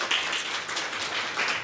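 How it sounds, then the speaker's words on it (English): A small conference audience claps steadily in a room, a continuous spatter of hand claps at moderate level with no pauses, heard alone. "so please have a round of applause"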